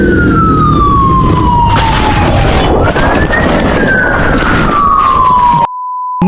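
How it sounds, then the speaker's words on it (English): A loud police siren wails steadily, its pitch sliding down and up as it sweeps, with engine rumble and road noise underneath, then cuts off abruptly. "heard police sirens behind him but didn't think they were for him"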